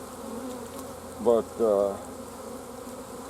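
Honeybees buzz during a nuc installation with smoke in use: two short, loud, close buzzing bursts stand out over a quieter hum, and a voice speaks briefly.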